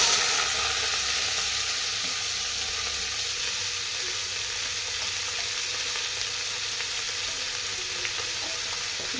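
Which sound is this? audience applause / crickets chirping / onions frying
onions frying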